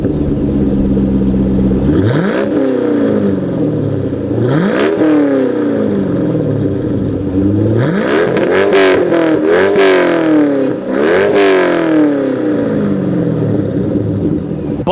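A C5 Corvette V8 with a manual transmission revs hard several times, each blip climbing and falling back. Loud, close and throaty, with two or three bursts coming in quick succession near the end.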